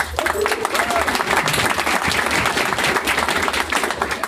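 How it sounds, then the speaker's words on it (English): A crowd at a tech meetup's anniversary event breaks into loud, dense applause for the sponsors, sustained clapping throughout with some voices and cheers mixed in. "So round of applause for our sponsors."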